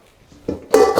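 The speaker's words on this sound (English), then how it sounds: "I'll give this a wee strain into the bowl here" Pot roast brisket and vegetables are strained into a bowl, a short burst of metallic clatter and wet tumbling that swells loud and close near the end.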